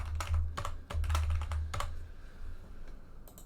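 Close computer keyboard typing comes in a quick burst of crisp key clicks that thins out into a few scattered taps.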